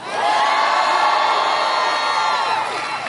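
Crowd at a political rally in Virginia cheering loudly, a dense roar of voices with shouts and whoops swelling at once and holding steady before easing slightly.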